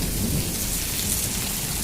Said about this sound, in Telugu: మరి మీరు వర్షం చూపిందంటూ వర్షం పడుతుంది, మరి చూపిస్తా గైస్